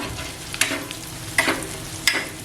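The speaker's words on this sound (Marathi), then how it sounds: "दोन ते तीन मिनिटं असे जरा परतून घ्यायचे" Masala sautéing in oil on a tawa for fresh small shrimp fry keeps up a soft, steady sizzle, broken by three sharp scrapes of a spatula stirring against the pan.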